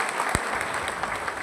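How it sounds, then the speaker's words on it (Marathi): Crowd applause at a birthday felicitation ceremony for a local panchayat samiti member, a steady, fairly faint patter of many hands with one sharp thump early on. "एकदा जोरदार टाळ्या सन्माननीय चंद्रू"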